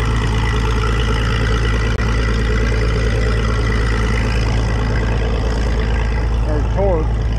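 A tractor engine runs steadily under load on a PTO dynamometer at a vintage engine show, a loud continuous low drone with no breaks, with faint voices mixed into the background.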